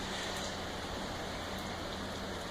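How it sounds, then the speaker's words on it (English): Heavy rain pours steadily on a rainy day in California, a dense, continuous hiss that never lets up, with no voices. "let me know if you guys like the rain"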